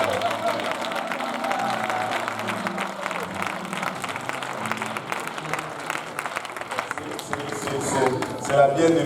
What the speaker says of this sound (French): On va applaudir Maman Bernadette.